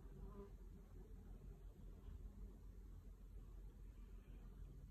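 Honey bees hum around a hive holding a recently collected swarm in summer heat, a low continuous droning buzz that is faint and steady throughout with no voices.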